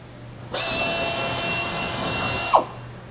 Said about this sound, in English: Drill the four holes out using a 1364 drill bit.